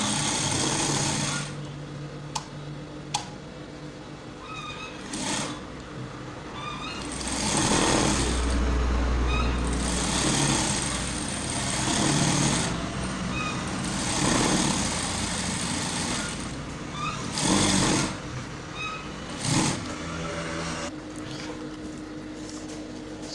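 Sewing machine stitching around a suit chest pad, running in steady bursts with brief pauses, a mechanical whir close by with no talk.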